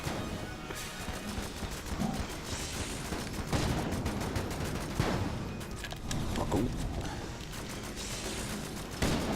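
Video game gunfire crackles in dense, continuous bursts with scattered louder shots and impacts, a busy, fairly loud battle din with no speech.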